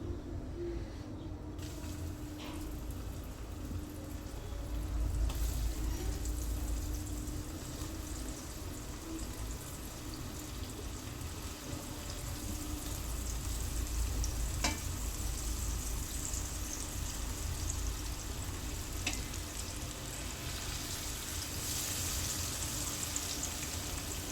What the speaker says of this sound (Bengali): বাকি আলুগুলো আমি এভাবে ভেজে নিব।